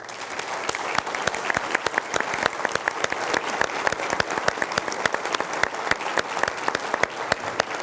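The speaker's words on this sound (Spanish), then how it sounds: "quiero pedirle al auditorio que finalicemos este debate con un fuerte aplauso para ambos equipos" An auditorium audience applauds at the close of a debate, a loud, sustained burst of many hands clapping with sharp individual claps standing out throughout.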